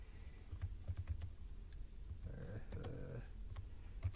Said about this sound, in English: let me type his name in with Eartha Kitt